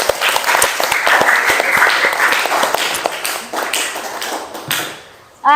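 An audience claps loudly at a teacher education class session at a university in Bandung, a steady burst of applause that thins out and fades, then ends abruptly.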